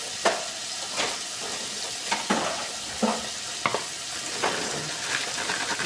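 Onions and potatoes frying in a pan, sizzling steadily while a spoon stirs and scrapes against the metal in repeated bursts, close and fairly loud.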